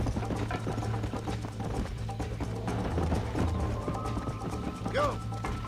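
Horse hooves clip-clop steadily in Red Dead Redemption on Xbox One, a continuous galloping rhythm mixed with game music and effects, with someone talking over it.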